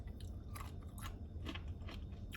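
Homemade pickled carrots are chewed close up, giving several crisp, wet crunches over about two seconds, fairly quiet with no talking.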